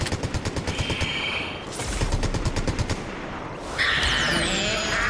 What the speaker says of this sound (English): He's gonna start shooting at me, I know he is.